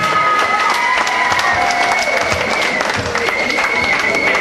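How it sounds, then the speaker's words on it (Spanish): An audience at a mariachi festival in Rustenburg bursts into loud, sustained applause, dense clapping with a few cheers and whistles running steadily throughout. "Nos queda recibir con fuerte aplauso señora Iris Lindeborg. Un aplauso para ella."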